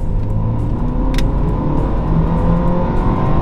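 A 2018 BMW X4 accelerating on the road, a loud continuous engine rumble with rising revs heard from inside the cabin, no voices.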